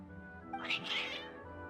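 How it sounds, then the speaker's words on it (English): Cats meow in Genshin Impact, a single drawn-out, rising and falling meow over soft game background tones, fairly close and clear. "Your cats seem pretty worked up."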